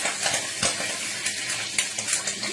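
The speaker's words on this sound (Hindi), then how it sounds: "देखो मेरा तेल तिर-तिर कर रहा है, कढ़ाई धो के मैंने गरम गरम रख दी ऐसे ही, तो थोड़ी सी आवाज कर रहा है" Hot oil crackles in a freshly washed kadhai, with a light sizzle and scattered pops and clinks, close by and moderately loud, while besan gatte sabji is cooked.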